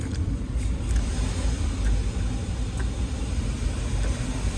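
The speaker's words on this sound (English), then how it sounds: "I'm just revving the car a little bit" A 2012 Audi A4 engine, under thermostat housing and water pump repair, idles and revs lightly in a steady low rumble with no clear rise and fall, close and continuous with no voices.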